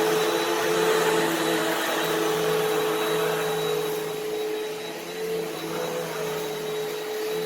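An Allergy S20EZM upright vacuum cleaner with HEPA filter runs with a steady, loud motor whine and airy roar, a faint rattle of debris passing through, no talking.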